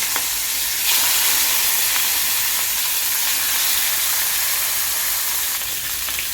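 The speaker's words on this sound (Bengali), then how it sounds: "গ্যাস জ্বালিয়ে কড়া বসিয়ে তেল দিয়ে দিলাম মাছটাকে এবারে ভেজে নিচ্ছি" Rohu fish pieces rubbed with turmeric and salt frying in oil in a kadai on a gas stove, a loud, dense, steady hissing sizzle throughout with a few faint clinks.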